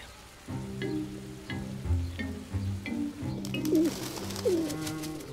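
A rock pigeon coos close by in a series of soft, rolling, repeated low calls, with faint sizzling background noise.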